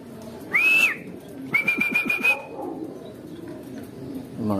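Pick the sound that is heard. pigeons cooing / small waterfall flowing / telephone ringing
pigeons cooing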